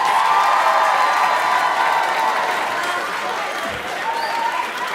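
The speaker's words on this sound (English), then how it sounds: "can we give these wonderful dancers and Dr. O another big round of applause?" At a K-pop dance showcase, the audience gives the dancers and their host a big round of applause mixed with cheers and whoops, a loud crowd roar that eases slightly toward the end.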